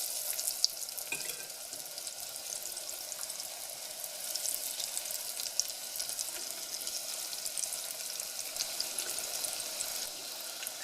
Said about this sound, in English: I just use a fork to add the avocado chips very carefully to the oil